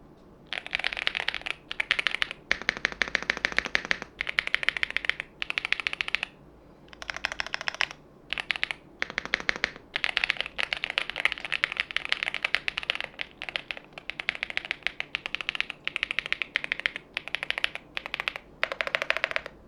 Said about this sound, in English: Let me get as close as I can to the keyboard so I can give you guys a sound test.